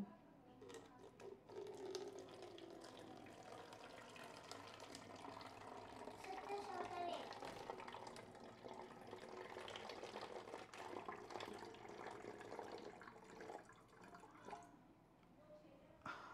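Water poured into a small homemade hydroelectric model, a steady splashing trickle of moderate level running for most of the span, with people talking over it.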